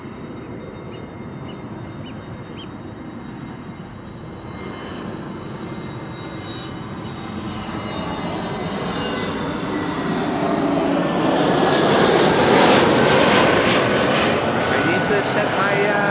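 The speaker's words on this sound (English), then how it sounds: "Next up is Transavia with an A321neo arriving from Faro" A Transavia Airbus A321neo airliner arriving at Amsterdam Schiphol after a flight from Faro, its steady engine roar building louder and nearer over the second half, with a voice talking over it.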